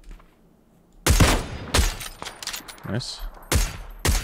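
Kar98 rifle fired with a 15x scope in PUBG on the Taego map, five loud, close, evenly spaced shots with sharp attacks and short decays, and a voice briefly speaking between them.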